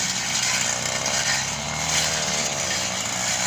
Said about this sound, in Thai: นี่ค่ะใช้เครื่องตัดหญ้าตัดเลย